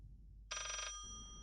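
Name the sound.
telephone ringing in the video game Layers of Fear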